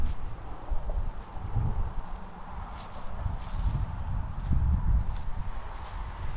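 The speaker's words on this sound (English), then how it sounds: "it's going to be kind of windy" Gusty wind buffets the microphone outdoors, a continuous low rumble rising and falling in uneven surges.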